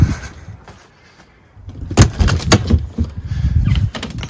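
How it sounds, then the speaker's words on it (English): The friction-hinge entry door of a 2021 Sundance 241BH travel trailer is opened after a quiet moment, with a cluster of close latch clicks, thumps and rattling handling noises. "Friction hinge door, really nice."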